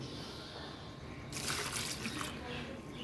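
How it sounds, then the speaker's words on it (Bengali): Homemade liquid fertilizer for a hibiscus plant is poured out in a short, soft splashing trickle that rises partway through over faint background noise. "দেখো একটু ঢেলে রেখে দিই।"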